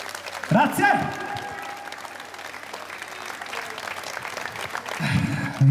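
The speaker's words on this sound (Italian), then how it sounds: "Vi sentiamo belli caldi ad applausi" Audience applause at an outdoor tribute-band concert in Piazza Manzoni, Jesolo, a steady clapping wash lasting several seconds and swelling again near the end, with a voice talking over it at times.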